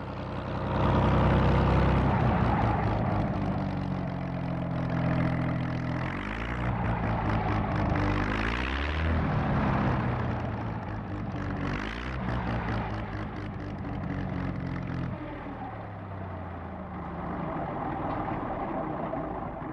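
A P-40 fighter plane armed with 20 millimeter cannon and a bomb rack drones on its propeller engine in a war film, a loud continuous roar that swells and shifts in pitch throughout, with no talk.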